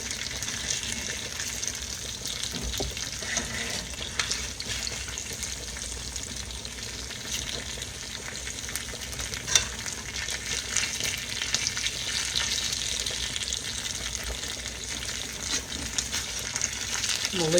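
Smothered fried chicken frying in a pan, a steady soft sizzle with faint crackle and occasional light scraping, continuous and fairly quiet, no talking.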